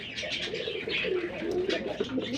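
Domestic pigeons coo in a close, continuous run of soft, throaty warbling calls, alone without talk.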